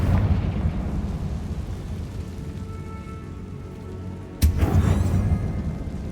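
A Confringo blasting spell goes off in Hogwarts Legacy, a sudden loud burst that cuts through a steady rumbling game backdrop and then rolls on with a crackling roar.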